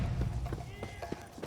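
Horses gallop in The Witcher 3: Blood and Wine, a quick run of hoofbeats under the clatter of the fleeing scene, with voices speaking over them.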